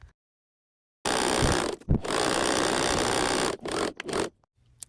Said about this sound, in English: sew one straight line on all 3 pieces